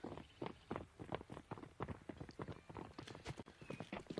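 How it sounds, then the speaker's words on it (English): Horse hooves clip-clopping on the Inferno map of the video game Counter-Strike, a steady, quiet rhythmic trot that continues throughout. "But I heard a horse."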